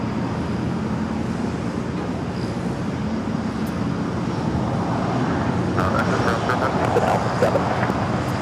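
A British Airways Boeing 777 from London Heathrow lands on runway 25 left at LAX, producing a broad, steady jet roar that grows fuller toward the end, with a brief radio voice heard over it.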